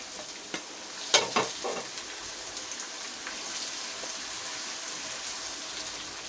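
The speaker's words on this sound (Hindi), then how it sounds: "इसके बाद लहसुन अदरक का पेस्ट डालेंगे और फ्राई कर लेंगे इसको अच्छी तरह" Ginger-garlic paste and tomatoes frying in a pan for aloo gobi, a steady close hiss and crackle of sizzling oil with a few louder scraping stirs near the start.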